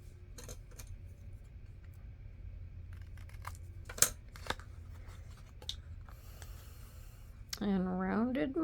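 Scissors snip through a paper folder insert in a quiet room, cutting angled edges with a series of short, crisp clicks and faint slicing sounds, before a voice starts speaking at the end.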